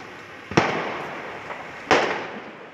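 Two sharp firecracker bangs, about a second and a half apart, each ringing out briefly over a steady crowd-like background noise, at a street gathering for an Algeria football match in Lyon, with police firing tear gas.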